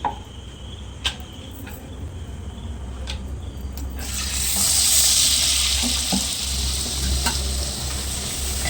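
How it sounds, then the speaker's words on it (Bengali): Luchi, puffed Bengali flatbread, frying in oil: a few quiet kitchen clicks first, then the sizzle swells to a steady, fairly loud hiss for the rest, with no talking. "মা এখানে লুচি বেলে রেখেছে কিছুটা বানাচ্ছে আর এখানে ভাজতে হবে"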